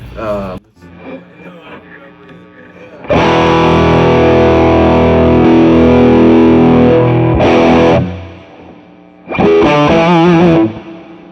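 Heavily distorted electric guitar chords through a Fuchs amp with the gain cranked up ring out loud and sustained, with short gaps between a long held chord and a couple of brief bursts.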